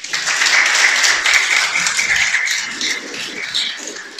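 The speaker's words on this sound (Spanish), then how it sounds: "Dale un aplauso." Congregation applauding during a Spanish-language church sermon, a dense, steady wash of clapping that stays loud for several seconds and then thins slightly toward the end, with no voices over it.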